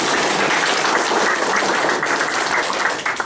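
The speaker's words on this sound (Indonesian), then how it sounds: "Tepuk tangan sekali lagi." An audience at a school's academic writing event opening gives a short round of applause, a dense, loud wash of clapping that holds steady for a few seconds.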